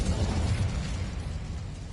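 A dense, continuous fiery roar with crackling bursts as an Incendio fire spell strikes a barricade in Hogwarts Legacy, loud and steady throughout without talk.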